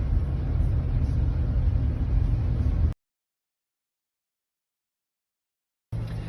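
Steady low rumble of a car driving, heard from inside with a constant engine drone, cut off to silence midway and then resuming.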